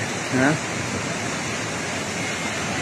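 A river flows past a house after the Wayanad landslide, making a steady, even rushing of water throughout, with a brief voice near the start.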